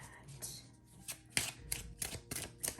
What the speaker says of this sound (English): So I know you can probably hear me shuffling, but you can't see me shuffling.